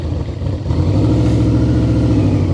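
A Yamaha V-Max 1200cc motorcycle, a big heavy 138-horsepower bike, with its engine running at a steady mid-pitched drone that swells slightly after a brief dip early on, heard close and alone.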